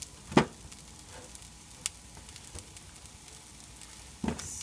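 Onions cooking in sesame oil for a hearty soup, a faint soft sizzle with a few sharp utensil taps and clicks spaced apart, close and quiet with no speech.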